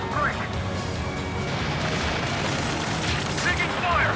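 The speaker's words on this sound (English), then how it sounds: "Taking fire! We're pinned down! Shoot back!" Enemy gunfire and explosions in the video game Ace Combat 7, a dense, continuous roar of battle noise with booming blasts throughout, and voices faintly present beneath it.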